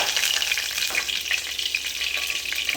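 Curry leaves fry in hot oil for a spicy chicken curry, giving a loud, close, dense crackle and spitting sizzle that stays steady and busy throughout.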